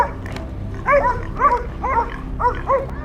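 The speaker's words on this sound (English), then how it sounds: "They quickly sniffed, barking loudly to signal that they had discovered the target." Hunting dogs on a wild boar hunt bark in short bursts, several sharp yips and barks spaced roughly half a second apart over low background noise.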